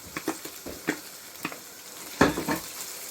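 Chopped capsicum drops into a hot pan for chicken vegetable spaghetti, and a series of short sizzling bursts and stirring scrapes follow in an uneven rhythm, close by with no voice.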